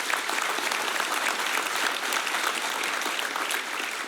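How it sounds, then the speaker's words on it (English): Sustained applause from a graduating academy audience, dense and steady throughout, honoring recruits at a graduation ceremony. "I think we need to give them another round of applause."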